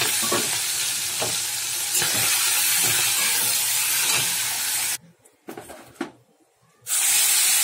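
Shrimp fry in hot oil in a wok, a loud steady sizzle with stirring scrapes for about five seconds, then a near-silent gap with faint clatter before the sizzle returns.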